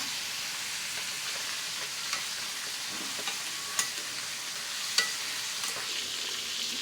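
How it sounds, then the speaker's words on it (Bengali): Bitter gourd slices salted and stirred in a frying pan give a steady, moderately close sizzle, with a few sharp scraping clicks from the stirring utensil scattered through it and no talking. "করলাগুলা দিয়ে দেব, দিয়ে এখন নাড়াচাড়া করে নেব।"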